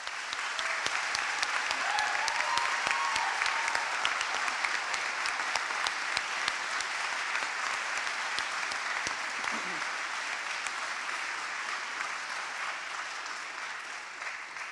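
Sustained applause from a graduation audience at a Bath Spa University winter ceremony, dense even clapping filling the hall without a break and fading only slightly toward the end.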